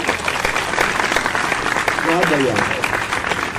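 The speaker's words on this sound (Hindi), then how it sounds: "तो एक बार जोरदार तालियां बजती रहे बीच में" Audience applause at a poetry gathering between two poets, continuous clapping from the crowd while a voice speaks briefly over it.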